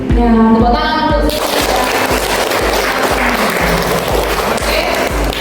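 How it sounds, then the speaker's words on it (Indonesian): A group at a midwifery teaching session at Poltekkes Kemenkes Palu breaks into applause, steady clapping filling the room fairly loudly with a faint rhythmic thumping underneath. "Ya, tepuk tangan untuk"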